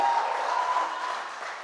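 Broad, steady clapping from a crowd at a school science and maths quiz championship slowly tapers off, with a faint tone ringing through it.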